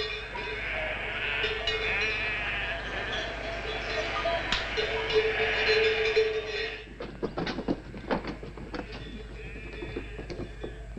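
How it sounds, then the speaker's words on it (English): Sheep coming in for milking bleat in a steady, mid-distance chorus over a hazy outdoor din. A clattering rattle takes over toward the end. "The sheep are still coming in for milking."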